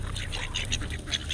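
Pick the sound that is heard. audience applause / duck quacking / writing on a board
duck quacking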